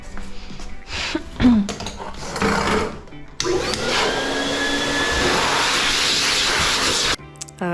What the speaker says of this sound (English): Yes, blow drying.